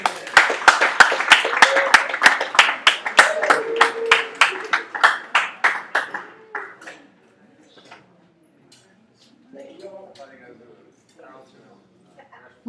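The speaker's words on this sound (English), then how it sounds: "Please, another round of applause for Mr. Fulgencio and Mr. Levario." A small open mic audience at the GI Forum in Saginaw applauds the performers with distinct, rhythmic claps that fade out after about six seconds, followed by a voice talking quietly.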